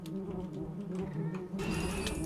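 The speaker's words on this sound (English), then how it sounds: "And these are wasps." Wasps at a nest in the Minecraft video game buzz in a steady, droning hum that persists throughout, with a brighter tone rising near the end.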